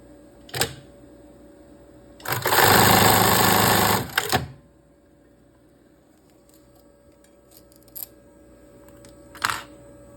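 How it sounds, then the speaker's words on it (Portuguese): A sewing machine stitches the strap of a panty in one loud, fast two-second run, with a few isolated clicks and taps from the machine before and after in an otherwise quiet room. "Então, aí, ó, costurou a alça"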